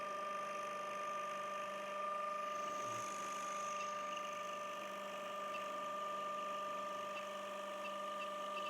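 A steady mechanical hum of a Nova Voyager DVR drill press runs throughout, with a faint cutting whine layered over the constant motor drone, fairly quiet and even.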